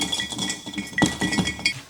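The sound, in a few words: granola poured into a glass gallon jar, clinking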